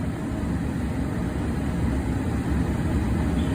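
Ford Transit van engine idling steadily just after starting, a continuous low rumble held close and loud throughout with no voices.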